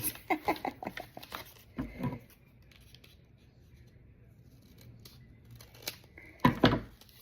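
Scissors snip through the paper wrapper of a Hershey chocolate bar, a quick run of close, crisp cuts at the start followed by a couple of isolated snips, with quiet gaps in between.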